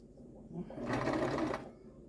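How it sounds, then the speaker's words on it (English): A Brother LX3125 sewing machine stitching a pillow made from drying mats runs in a single short burst of fast, steady whirring and needle clatter, close and clear after a quiet start. "I brought out my brother's LX3125 to finish this off and sew around here like I had intended."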